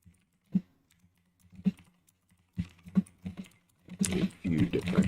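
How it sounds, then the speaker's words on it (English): Computer keyboard typing in all caps, scattered soft key taps in short bursts, then a denser run of quick clatter toward the end, close and fairly quiet with no talk. "I'm typing all caps."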